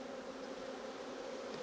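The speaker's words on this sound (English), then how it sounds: "the bee's looking all right" Honey bees buzzing around beehives on an island, a steady, dense drone holding unbroken throughout, moderately close with no voices.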